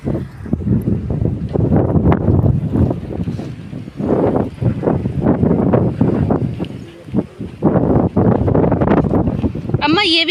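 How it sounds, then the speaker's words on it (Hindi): Strong wind gusting outdoors, buffeting the microphone in loud, uneven roaring bursts, with people talking underneath. "बहुत तेज हवा चल रही है।"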